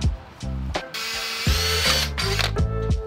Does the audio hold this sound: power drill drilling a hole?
yes